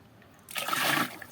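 Water poured over a body during a bath, a brief close splash and gush lasting under a second, heard alone against a quiet background.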